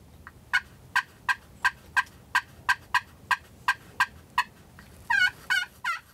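A wild turkey hen calls in a steady run of a dozen sharp, evenly spaced yelps, then breaks into a quicker, raspy burst of cutting, fairly close and clear, on a cold, snowy morning.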